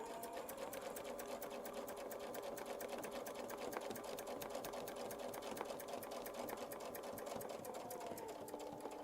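A sewing machine stitches a petal shape on a quilt, running at a steady fast rhythm throughout, its even needle chatter fairly faint and unbroken.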